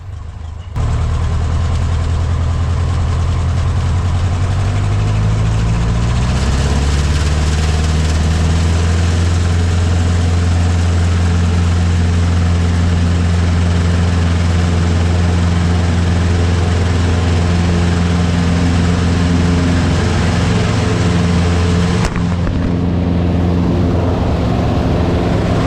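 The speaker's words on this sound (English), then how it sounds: "Let's go ahead and skip to the takeoff." A four-cylinder light aircraft engine runs before takeoff, a loud, close, steady drone with a low throbbing hum. The pitch rises once as the engine revs up, then holds for the rest of the run before easing off near the end.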